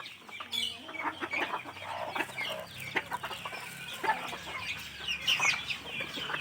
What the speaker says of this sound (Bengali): আর এই ছোটো মুরগির বাচ্চাগুলো, বেবিগুলো আছে।